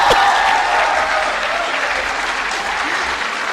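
Sustained audience applause at a formal Indian government event honouring a speaker, dense steady clapping from a large crowd filling the whole stretch at even loudness.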